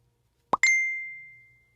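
Two Facebook Messenger notifications go off on a phone, a soft plop followed immediately by a bright ding whose ringing tone fades away over about a second, clear and close.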